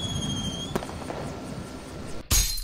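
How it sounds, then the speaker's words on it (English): A firework goes off in a video game with a sharp, loud, crackling burst near the end, preceded by steady game ambience and a faint whistling tone. "Firework."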